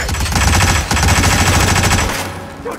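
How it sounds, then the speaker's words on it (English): Rapid automatic gunfire from a gun in the Hitman video game, a continuous loud burst of shots, a brief break, then another sustained volley that fades out near the end, with no talking over it. "most inaccurate gun in the world, I swear"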